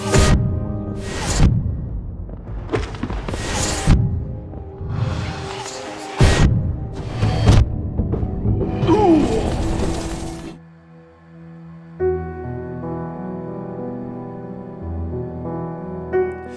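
Hollow Knight game music and impact sounds play with hits and crashes, then the music abruptly drops out as the player is hit, leaving a thin, muted sustained tone.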